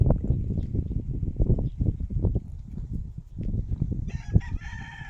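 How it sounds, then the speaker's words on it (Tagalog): A rooster crows near a countryside hut; after several seconds of low chicken clucking and bustle up close, a clear crow rings out toward the end. "May manok rito."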